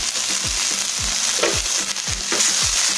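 Brown rice with sweet corn, blanched peas and salt being stirred and sautéed in a pan, a soft steady sizzle broken by a regular series of spatula scrapes and taps, close up without speech.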